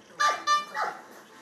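A pedigree dog competing in French ring sport gives three sharp, close barks in quick succession, each a short yelping burst.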